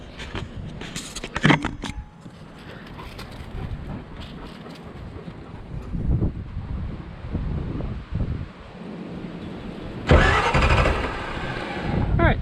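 A car starter motor cranks the engine, wired through a starter button, in two harsh grinding bursts: a short one early on and a louder, longer one near the end, with wind buffeting the microphone and outdoor rustling in between.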